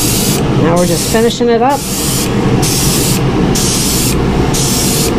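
Airbrush spraying paint onto crappie fishing lures, a steady loud hiss in pulsed bursts with short gaps, while someone talks over it briefly.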